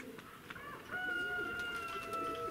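Pigeons, some of them white, kept at a loft, give soft calls and coos against steady outdoor ambience, with a few clear tonal bird notes standing out at moderate distance and no talking.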